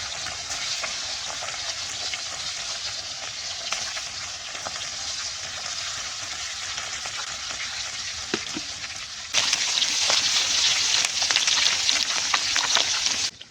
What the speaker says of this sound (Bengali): তেল গরম হয়ে আছে, মাছ দিয়ে দেবো।